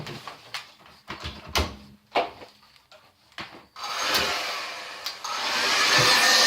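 A hair dryer blows while drying hair away from the scalp, starting with intermittent rubbing and handling noises before the dryer's steady, loud airflow takes over.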